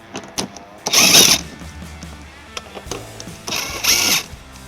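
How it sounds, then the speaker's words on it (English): A 10mm socket works loose bolts on a 2023 Toyota Sienna's rear fascia, with two loud, close bursts of whirring, ratcheting tool noise separated by quieter clicks and handling sounds. "We're going to remove them using a 10mm socket."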